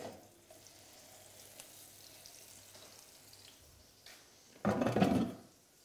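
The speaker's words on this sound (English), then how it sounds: "You can hear it sizzle as it goes in the pan." Mozzarella burgers dropped into a hot non-stick pan set off a sudden loud sizzle late on, after quieter kitchen background.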